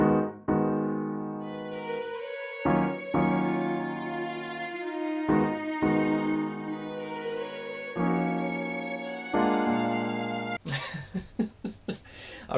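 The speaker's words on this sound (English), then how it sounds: "Then I threw on this violin." Sustained violin layered over pitched-down keys in a producer's beat, long bowed notes changing in phrases, with a brief burst of noisy texture near the end, no talking.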